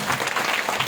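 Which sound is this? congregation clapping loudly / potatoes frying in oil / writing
congregation clapping loudly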